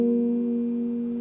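The black keys of a piano sound together as a short sustained tone with a bright upper partial, ringing evenly and decaying gently.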